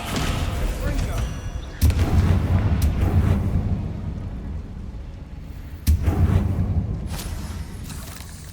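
Spell impacts in Hogwarts Legacy, including the Descendo slam, hit as two sudden heavy booms over a steady rumbling game soundscape, while a man casts spells aloud and talks throughout.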